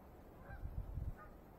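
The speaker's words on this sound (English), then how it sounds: "decent sized flock of geese flying over there" A decent-sized flock of geese flying overhead in open farmland, a cluster of faint, distant honks rising briefly over low rumbling background noise.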